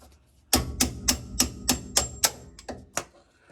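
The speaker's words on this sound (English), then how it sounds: "Sometimes you gotta hammer it a little, or use a little hammer." Sharp metallic hammer strikes ring out about ten times in a steady rhythm on a front-end part of a 1968 Lincoln Continental, close and fairly loud, with no voices.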